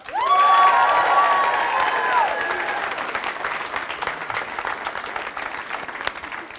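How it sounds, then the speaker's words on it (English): Audience applause at a cyber program launch event, a full crowd clapping steadily with some cheering; a loud tonal voice or cheer rises at the start, then the clapping fades gradually over several seconds. "one more round of applause for all the students, alumni, and friends here"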